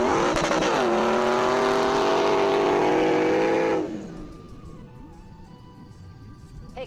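An SUV with a professional driver tears across desert dunes, its engine roaring loud and close with rising revs and tire noise, then cutting to a quieter rumbling drive after a few seconds.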